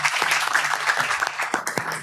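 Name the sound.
audience applause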